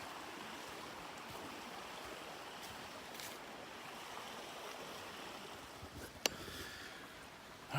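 Creek water flowing steadily along a gorge trail, a continuous broadband rush close by with no voices, broken only by a brief sharp knock near the end.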